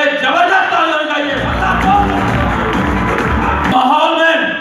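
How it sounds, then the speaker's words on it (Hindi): Crowd applause and cheering at a Safe Shop diamond retail commitment event in Lucknow, a dense sustained roar of clapping with whoops and shouts filling the hall, a voice talking over it at the start and end. "मैं चाहूंगा हमारे सभी ग्रेट अप्लायंस के लिए जबरदस्त तालियां बजाइए"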